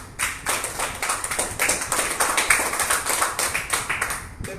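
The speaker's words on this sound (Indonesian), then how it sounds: "Mari kita tepuk tangan." A crowd claps hands steadily throughout at an anniversary gathering of the West Papuan National Liberation Army in Port Moresby, a dense, continuous patter of many hands at moderate loudness.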